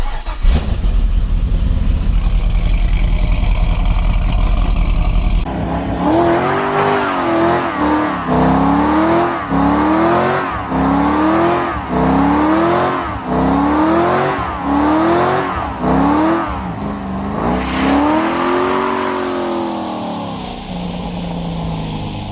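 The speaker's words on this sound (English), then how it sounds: "Going for that cold start" A car engine cold-starts with a loud churn and then settles into a series of about ten sharp, rhythmic revs that rise and fall close by, before dropping back to idle.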